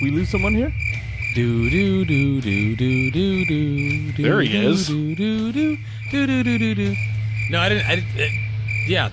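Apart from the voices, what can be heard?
crickets chirping sound effect played from a soundboard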